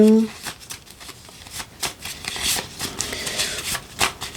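A deck of cards is shuffled and cut by hand for a reading, with a rapid riffling flutter followed by several crisp slaps and flicks of the cards, close up and fairly loud, broken by brief pauses.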